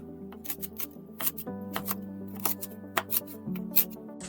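Frozen broccoli being cut into smaller pieces with a knife, a run of sharp crisp chops at an irregular rhythm, close and fairly loud, with a faint tonal hum underneath.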